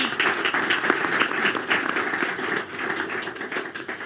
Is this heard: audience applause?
yes